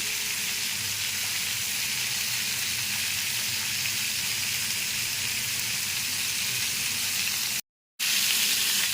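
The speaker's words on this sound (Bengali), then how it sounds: "এটা কিন্তু সম্পূর্ণ হাই ফ্লেমে ভাজতে হবে।" Beef steak sizzling hard in a pan over a high flame, seasoned with black pepper and ghee, a loud, continuous frying hiss with a brief cut near the end and no talk.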